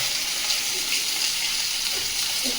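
Tap water runs and gushes in a steady, loud stream while cut fish and prawns are rinsed in a kitchen, with no talk over it.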